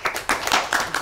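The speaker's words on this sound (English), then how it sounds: "give yourselves a clap" A small group claps for themselves in an informal gathering: a short, close burst of uneven hand claps lasting about a second.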